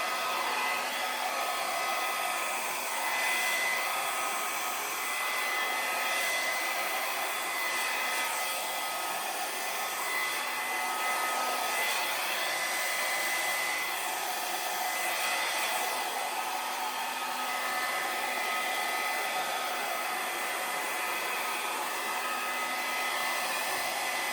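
A hair dryer blows air over wet acrylic pour paint, a loud, steady, unbroken whoosh held close for the whole stretch with no talking.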